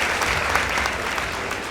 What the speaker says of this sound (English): Let's appreciate Nasakol Girls School with a better round of applause